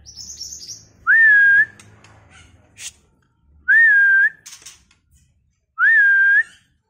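Male white-rumped shama (Murai Batu) of Sabang stock singing: three loud, clear, rising-and-falling whistled phrases spaced a couple of seconds apart, with faint chirps and quiet background noise between them.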